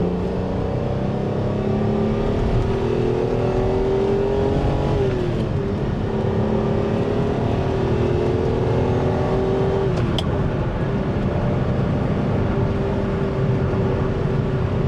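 A classic Ferrari engine runs continuously and loudly, its pitch climbing and dropping through gear changes as it accelerates, with a steady road roar underneath.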